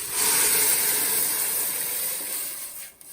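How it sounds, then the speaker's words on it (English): Vegetable broth poured into a hot pot for borscht, giving a loud, steady sizzling hiss that holds for about three seconds before tapering off, with no talk over it. "It's going to make a big sizzle."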